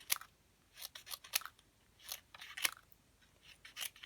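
Scissors snip window sheet into little pieces for a paper-craft exploding box: a series of crisp, close snips in an irregular rhythm against a quiet background.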